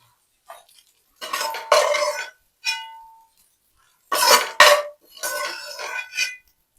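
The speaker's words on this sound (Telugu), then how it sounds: "ఇప్పుడైతే మనం ఫ్రై చేసుకున్న ఎగ్స్ని ఒక చిన్న బౌల్లో తీసుకుందాము." Fried eggs are transferred into a small bowl with a metal utensil, giving several close, bright clinks and scraping clatters in short bursts separated by silence.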